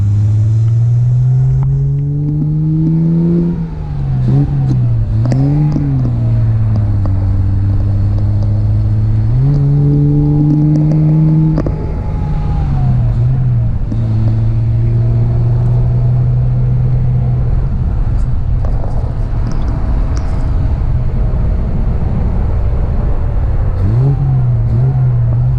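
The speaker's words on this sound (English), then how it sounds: "I can't really gear down and turn the wheel at the same time, so we're out of overdrive. We'll get back all the way down to second here." A 1959 Austin Healey 100-6 is driven and downshifted toward second gear, its engine rumbling loudly and close, pitch climbing and dropping with each throttle change and gear shift, no talk.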